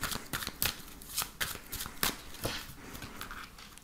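Tarot cards being shuffled by hand for a reading, a close, papery riffle and slap repeating in quick uneven bursts, loud and crisp with no talk.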